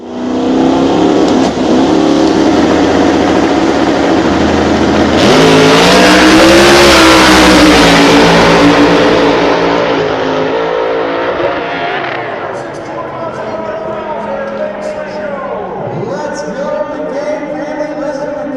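Loud drag race cars at a Sweet 16 event roar down the track, engines screaming at full throttle for several seconds before the noise fades into distant revving and crowd chatter.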